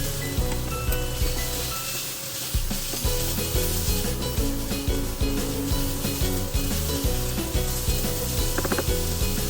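Carrots and other vegetables sizzle in a pan while pansit canton is stir-fried, with a steady loud frying hiss and periodic scraping stirs under a constant background drone.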